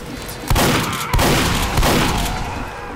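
Gunfire in Team Fortress 2 on the 2Fort map, three loud, sharp bursts roughly half a second apart, each with a booming low thud that rings out between shots, with no talk over it.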